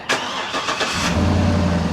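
A Cadillac Escalade engine starts: a short starter crank for about a second, then the engine catches and settles into a steady, close idle.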